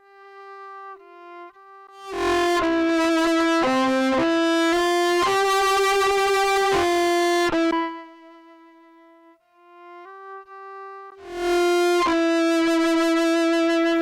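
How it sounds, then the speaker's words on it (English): A sustained, bowed violin line played through a BOSS SY-300 guitar synth, its tone thickening into a gritty distortion that fades in, playing alone with brief pauses between phrases. "You can hear the distortion fading in there."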